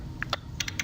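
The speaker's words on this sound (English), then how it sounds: "if I hit Shift Q on the keyboard" Computer keys pressed on a keyboard, a few quick light clicks over a low steady hum, close by and without talk.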